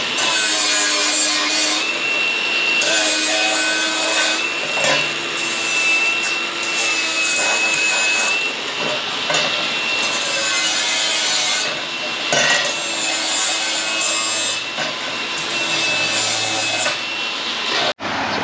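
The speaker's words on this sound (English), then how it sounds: "cleaning that up with my Milwaukee angle grinder with a flat wheel." Milwaukee angle grinder with a flat wheel grinding weld slag off a steel hopper part, a loud continuous high whine that runs almost unbroken and then cuts off abruptly at the end.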